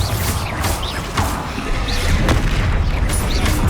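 Loud booming explosions and crashing debris from the Bombarda spell in the Hogwarts Legacy video game, several heavy impacts layered over dense, continuous battle noise during a fight with a troll.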